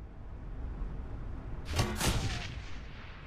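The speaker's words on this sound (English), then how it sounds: "Let's hit these with some grenades." Grenade explosions in the video game Shadowrun: Hong Kong, a pair of quick, loud booming blasts landing close together over a low rumbling background.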